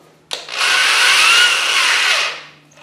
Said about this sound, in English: So I need to drill a 1/8 inch hole.